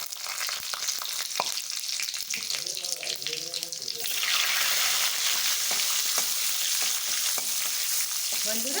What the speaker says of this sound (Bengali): তেলটা গরম হয়ে গেছে, দিয়ে দিচ্ছি ফোড়ন, কালো জিরে, দুটো শুকনো লঙ্কা, দুটো তেজপাতা আর গোটা জিরে